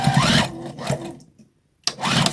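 Short bursts of a sewing machine stitching lined-up fabric scraps for a Christmas bowl cozy, two close runs, then a near-silent pause before a third burst starts.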